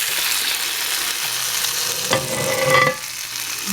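Fried chicken pie sizzles in oil in a stovetop skillet, a steady close crackle that swells briefly as the pie slides back into the pan, then settles into an even fry.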